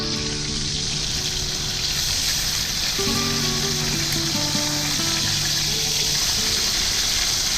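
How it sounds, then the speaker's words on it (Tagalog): Labahita fish sizzles steadily in hot oil, a constant crackling hiss with a few tonal background notes drifting in partway through. "prito naman natin yung ating labahita"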